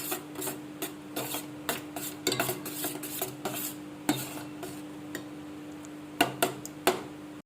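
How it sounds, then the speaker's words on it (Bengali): Sour yogurt being stirred in a bowl for a Bengali yogurt-eggplant dish, with close, irregular spoon taps and scrapes against the bowl, some clustered in quick bursts, over a quiet kitchen background with no talking. "এখন আমি টক দইটা একটা বাটিতে ভালো করে মিশিয়ে নিচ্ছি।"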